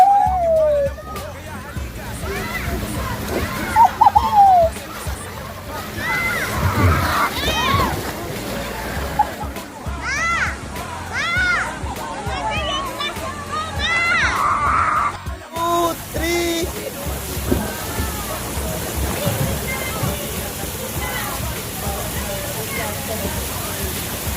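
Water splashes and sloshes steadily at an ocean park in Manila, a busy wet wash running throughout with people talking and shouting over it.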